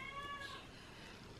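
A single drawn-out cat meow, fairly quiet and close, rising and then trailing off.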